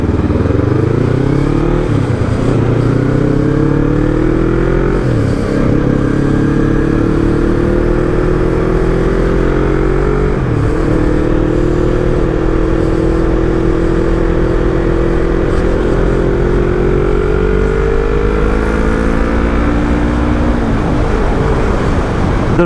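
A modified Yamaha R3 parallel-twin with flash-tuned ECU revs hard while riding, its loud engine note climbing and dropping through repeated gear changes, continuous and close with no talking.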